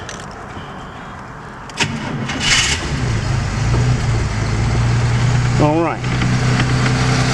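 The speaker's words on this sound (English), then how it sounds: "motor runs good, smooth" A 1934 Ford two-door sedan engine cranks and catches, then settles into a smooth, steady idle close by, with someone speaking briefly over it.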